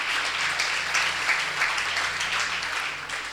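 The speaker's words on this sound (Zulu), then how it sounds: "Ngicela sibaphe ihlombe egameni kaJesu." Applause from a congregation at a Sunday church service. Soft, even clapping fills the short stretch at a moderate distance, with no talking over it.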